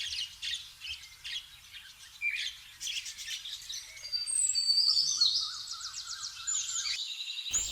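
Wild birds calling in Adina forest, Malda, a mix of sharp chirps, squawks and rapid trilling phrases that come through clearly over a quiet background, growing busier partway through.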